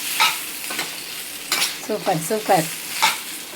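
Fish Manchurian made with koduva fish is stirred in a hot frying pan, with soft repeated scrapes and a steady sizzle. A voice speaks briefly nearby.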